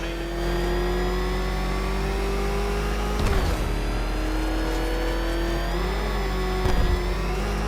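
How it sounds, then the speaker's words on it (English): A car engine in Batman: Arkham Knight revs steadily and loudly throughout, its pitch shifting slightly, with two brief sharp bursts of higher revving. "Can that ramshackle motor handle this?"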